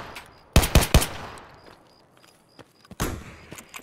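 Gunfire in Escape from Tarkov, including an SV98 sniper rifle: a tight burst of three loud, sharp shots, then a quieter stretch and another strong report near the end, with no talk.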